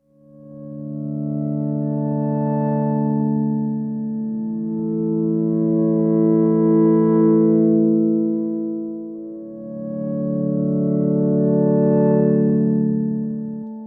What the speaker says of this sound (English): there's no harm in mixing in some of the original reverb as well to taste